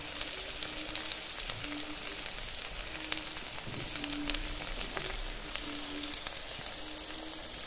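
Chopped onion frying in hot oil for a fish curry, a soft, steady crackle and sizzle with scattered light pops throughout.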